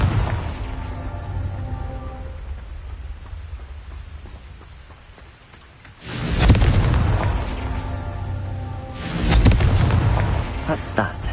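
Confringo spell detonations in the video game Hogwarts Legacy: two heavy, booming blasts a few seconds apart, each with a rumbling tail, over a low ambient background.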